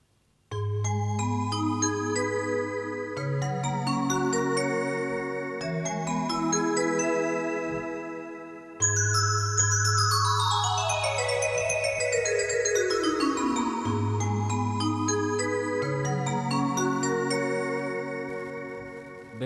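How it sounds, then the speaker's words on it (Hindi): Vibraphone Fantasia tone on a Roland XPS-10 keyboard plays a sustained, shimmering melodic passage with layered chords and descending runs, loud and alone with no voices. "आइए सबसे पहले टोन सुनते हैं एक्सपी सीरीज का वाइब्रोफोन फैंटासिया।"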